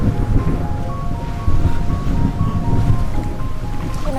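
Ocean waves surge continuously on a windy day, a steady broad wash of surf with wind rumble, loud and close throughout, with a faint tonal hum over it.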